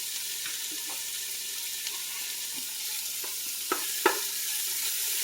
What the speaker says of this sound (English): Told you it was hot. Sizzle sells, baby.